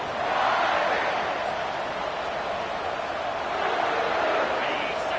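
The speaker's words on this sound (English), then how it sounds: "this crowd is fired up. Listen to this noise here" A fired-up stadium crowd at a football game roars continuously, a dense, steady wash of cheering and shouting that holds at a loud level throughout.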